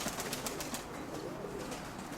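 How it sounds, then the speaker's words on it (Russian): Pigeons, a tufted long-feathered breed kept in a large flock, coo softly in a loft, faint low calls over a steady background hiss with a few brief flutters. "эти голуби"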